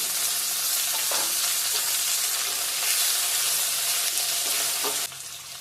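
Loud, continuous sizzle of chopped onion and tomato frying in oil with bay leaf and dry chili for a fish curry, with brief stirring scrapes, close up, easing off near the end.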